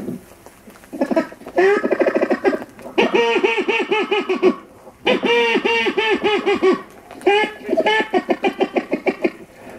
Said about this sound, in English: Out there I can hear the mallards.